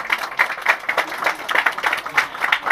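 An audience at a school batch reunion gathering claps in quick, regular bursts, with fairly loud, close handclaps forming a rhythmic round of applause.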